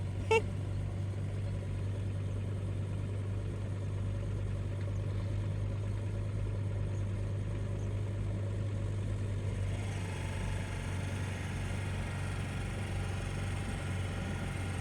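A scooter ridden slowly by a learner during a riding lesson gives a steady, low engine drone with constant vibration throughout, its tone shifting slightly partway through, with no voices over it.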